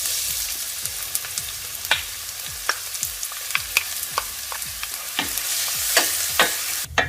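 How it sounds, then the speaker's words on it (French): Onions caramelize in oil in a large pot, a steady close sizzle broken by repeated scraping stirs at an irregular pace. "On rajoute les oignons, on les fait caraméliser pendant environ 10 minutes."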